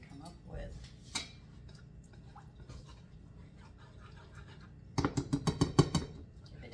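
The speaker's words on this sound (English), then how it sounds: "I'm going to try whisking this and see what we come up with" Jack Daniel's whiskey butter is whisked in a bowl. Scattered light scrapes give way to a burst of quick, rhythmic, clattering strokes close by near the end.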